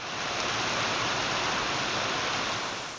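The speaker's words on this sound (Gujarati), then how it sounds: "બપોર બાદ પવન સાથે ધોધમાર વરસાદ શરૂ થતા શહેરના માર્ગો પર પાણી ફરી વળ્યા" Heavy rain driven by wind in Sihor, Gujarat, with water flooding the town's roads: a loud, continuous broadband roar of downpour that holds steady from start to finish, with no voices.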